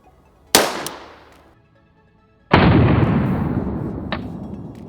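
Two loud rubber-bullet gunshots about two seconds apart, each followed by a long echoing decay, with a small click between the blasts.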